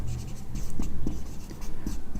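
Pen strokes scratch across paper in short, close, irregular bursts while math is worked out by hand, with no talk over them.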